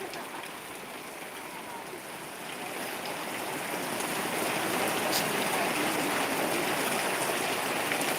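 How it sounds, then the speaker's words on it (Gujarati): Steady rain falling in Pandva village, Dasada, Surendranagar, a dense continuous hiss that swells louder after the first few seconds and holds, with no voices over it. "આપ નિહાળી રહ્યા છો પાંડવા ગામનો વરસાદ"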